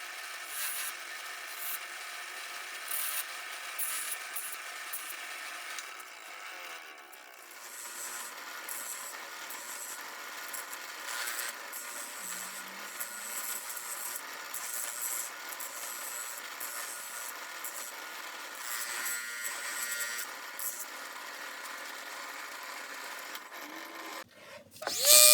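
A buffing wheel grinding against the rusty cutter head and blade parts of a Sears jointer, a steady, close, hissing, abrasive rub that runs without a break.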